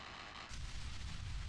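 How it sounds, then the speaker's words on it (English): Cannon fire in the combat flight game DCS World, heard as a dense, booming burst of rapid shots that swells midway and continues loud to the end, with no one speaking. "Oh my god, you almost got me with cannon fire"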